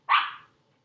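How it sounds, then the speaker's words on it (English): A single close dog bark sounds alone, sharp at the start and fading over about half a second, inside a quiet home. "Don't mind the barking."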